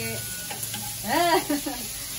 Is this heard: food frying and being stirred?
yes